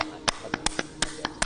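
Hard, sharp hand claps done vigorously as a health exercise, about eight loud strikes spaced irregularly, with faint background murmur.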